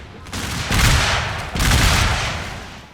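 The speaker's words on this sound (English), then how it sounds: "The Union line's going to fire a volley into the woods" A Union line fires a musket volley in a Total War Shogun 2 American Civil War battle, two loud, rolling bursts of overlapping shots that merge into a thunderous crackle and fade with a long echo.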